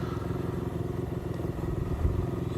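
A motorcycle with a stock exhaust idles and revs gently at a traffic light, a steady low mechanical rumble with one slight swell in engine note, fairly quiet and without speech.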